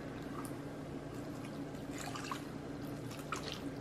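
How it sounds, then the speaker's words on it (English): Water pouring into an Instant Pot holding beef short ribs, a steady faint trickle and splashing heard alone without talk. "Tapos, lagyan natin ng water."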